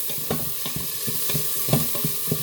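Spoon stirring food in an Instant Pot, close and steady, with repeated scraping strokes over a soft sizzle and no talking.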